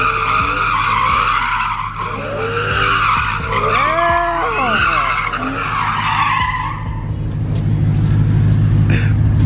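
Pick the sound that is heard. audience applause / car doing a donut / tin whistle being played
car doing a donut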